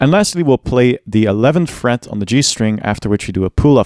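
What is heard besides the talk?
No everyday noise stands out behind the speech.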